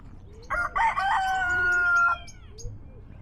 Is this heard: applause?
no